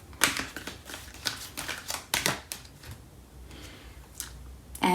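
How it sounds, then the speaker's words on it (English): Tarot cards from a Fairy Tarot deck snap and flick against each other in a quick run of sharp, close clicks, easing into softer handling with one last crisp slap. "Okay, so I'm going to pull out another card. So from the Fairy Tarot deck"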